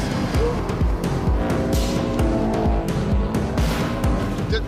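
Subaru Impreza rally car engine, loud and close, with a steady revving drone and rhythmic pulses, plus hints of tyre noise throughout.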